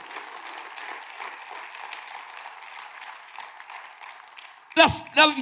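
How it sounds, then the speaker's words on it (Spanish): A church congregation claps during a Spanish-language service: soft, steady applause at moderate distance, then a loud voice cuts in near the end. "Denle un aplauso fuerte al Espíritu Santo."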